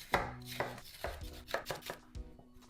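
A kitchen knife slices paprika into strips on a cutting board. About a dozen quiet, crisp chops come in an uneven rhythm, close by and alone.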